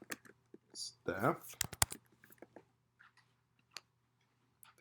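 A job description is typed on a computer keyboard in quiet, scattered bursts of key clicks, with a spoken word and some voice sounds mixed in near the start.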